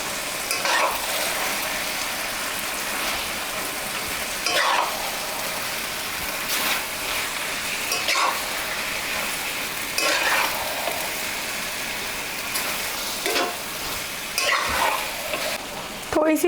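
Boiled noodles for chicken chowmein are tossed in a hot pan over a constant sizzle, with rhythmic scraping strokes of the spatula every second or two. The sound is close and loud throughout, with no voices.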